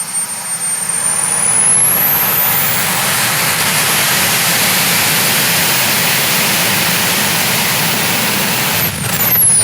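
A small jet engine is run up to full power in a rocket science demonstration, giving a loud, steady roar with a high whine that holds for several seconds before easing slightly near the end.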